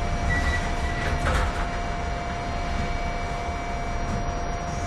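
Loud rumbling train noise with a steady whine and a brief screech, close by and continuous, no voices.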